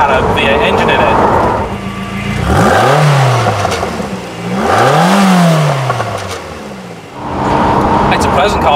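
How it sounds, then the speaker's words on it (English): A Lotus Esprit V8 engine revs up and down in two smooth rising-and-falling sweeps, loud and close, with steady road and cabin noise underneath. "I'd never guess this car had a V8 engine in it."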